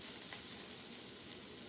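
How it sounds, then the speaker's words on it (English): Onions sizzling in a pan over lowered heat as they lightly caramelize, a soft, steady crackling fry with faint stirring, continuous and fairly quiet. "We want to turn this down actually because you want the onions to like lightly caramelize"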